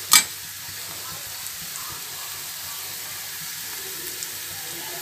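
Salt, chili powder and turmeric go into a sizzling tomato and taro-root gravy curry: a sharp clatter as the spices drop in, then a steady low sizzle with faint stirring scrapes.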